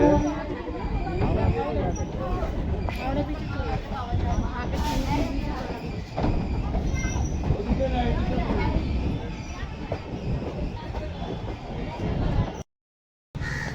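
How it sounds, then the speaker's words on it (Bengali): A Majerhat-bound local train passes near a station in Kolkata, a loud, steady rumble of wheels and carriages running continuously with crowd chatter mixed in, cutting off briefly near the end. "মাঝেরহাটগামী ট্রেন যাচ্ছে।"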